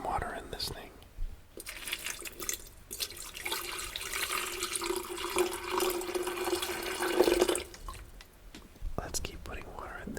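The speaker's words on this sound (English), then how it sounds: "Let's put some water in this thing." Water runs steadily into a small kettle for several seconds, a continuous rushing pour with a faint rising tone as it fills, close and soft, with whispered talk before and after.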